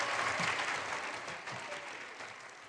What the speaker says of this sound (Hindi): तालियां जोर से होनी चाहिए।